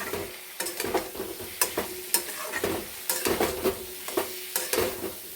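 Potatoes and soya chunks cooking in a kadai, with a steady sizzle and repeated scraping and stirring knocks from a spatula against the pan, close and fairly loud, no voices.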